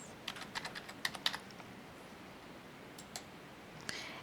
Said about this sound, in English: enter your new password